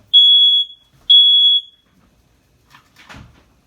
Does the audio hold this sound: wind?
no